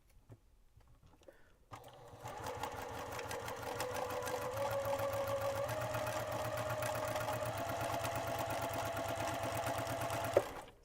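A sewing machine runs along a marked line on mystery quilt block fabric, a steady close mechanical hum with rapid needle ticks lasting about nine seconds before stopping with a small clunk.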